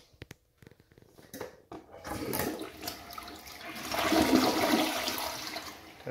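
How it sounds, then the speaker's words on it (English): Full flush of a WaterRidge one-piece toilet: a few faint clicks first, then water rushes in loudly, building to a strong swirling peak before easing off, close-up with no voices. "This time I'm going to do a full flush."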